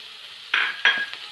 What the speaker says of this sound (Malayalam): ഇതൊന്ന് മൂക്കണ വരെ നമുക്കൊന്ന് ഇളക്കി കൊടുക്കാം